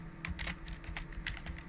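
Rapid keystrokes on a computer keyboard as a username is entered at a login screen, a quick uneven run of close, crisp taps over a low steady hum.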